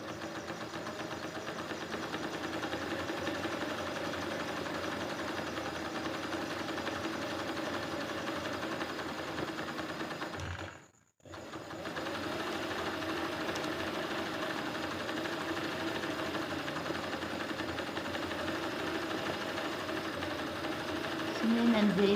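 An embroidery sewing machine stitches ball chain work with zari thread in a steady, continuous whir, broken by a brief pause near the middle before running on at the same pace.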